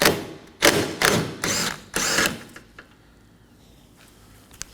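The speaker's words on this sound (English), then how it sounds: "Remove this fastener using a 15mm socket." A 15mm socket working a fastener loose on a 2014-2023 Ford Transit Connect 2.5L, heard as several short loud ratcheting bursts close by, then a few faint clicks and quiet.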